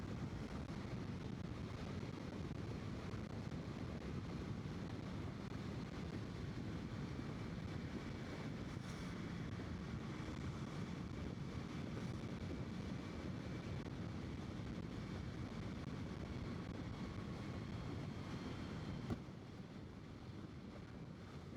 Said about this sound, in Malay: kalau kelaju macam ni, angin, bunyi angin je lebih ni